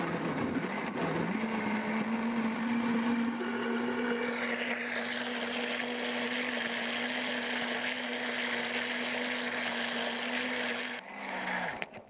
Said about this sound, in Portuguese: Vamos bater esses ingredientes por 1 minuto ou até ficar homogêneo.